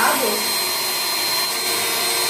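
A professional hair dryer runs steadily as it dries a long-haired, trimmed cat, giving a loud, continuous broadband whoosh with a constant high whine throughout.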